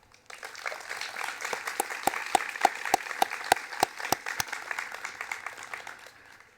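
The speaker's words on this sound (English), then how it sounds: "Let's give them a round of applause." A baccalaureate service audience applauds the graduating class of 2021 with a moderate, fairly distant clatter of clapping, while a few sharp, louder claps ring out close by in a steady rhythm before the sound fades away.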